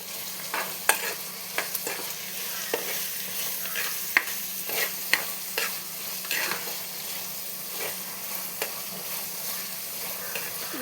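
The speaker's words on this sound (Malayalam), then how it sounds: "ഇനി നമുക്കിതിനകത്തേക്ക് നമ്മൾ അരിഞ്ഞ് വെച്ചേക്കുന്ന സവോള ഇതും കൂടി ഇട്ട് കൊടുക്കാം. ഒന്ന് വഴന്ന് വരട്ടെ." Sliced onions sauté in a pan for fish curry, a quiet steady sizzle punctuated by repeated spatula scrapes and taps as they are stirred, close and unaccompanied by talk.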